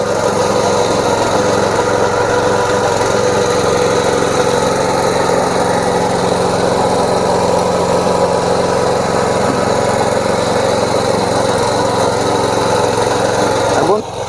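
A back rotary power tiller with heavy tyres, built for hard, soft, muddy or dry soil, runs with a loud, steady engine drone close by, continuous throughout and ending with a short change at the very end.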